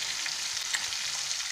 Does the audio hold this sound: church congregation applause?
no